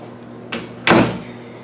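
A solid closet door in a Disney Grand Floridian villa studio shuts twice in quick succession, a light knock followed by a firmer thud that dies away, near and without talk.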